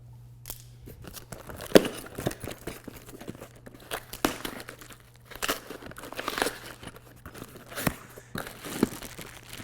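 Scissors cutting into a cardboard bike box and packaging crinkling, with scattered crisp snips, tears and rustles at close range over a low steady hum.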